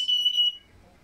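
Smoke alarm giving a single short, shrill electronic beep that cuts off after about half a second, leaving near silence.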